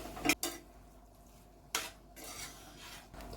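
A utensil stirring and scraping egg bhurji in a pan, a few quiet clattering strokes separated by short pauses.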